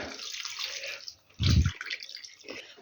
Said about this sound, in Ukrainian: І тепер гарнесенько залью оцим маринадом ці баклажаночки.